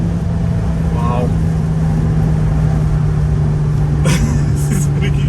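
Toyota 2GR supercharged V6 pulling hard under acceleration from inside the car, a steady loud drone with a strong low hum throughout and brief higher whine bursts near the end, while people talk over it.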